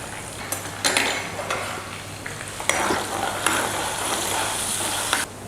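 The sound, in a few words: frying chopped ginger, curry leaves and asafoetida in oil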